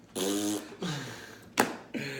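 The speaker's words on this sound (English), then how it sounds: "I farted." A person lets out a series of loud, close, buzzing farts, three or four bursts of varying length in a quiet room.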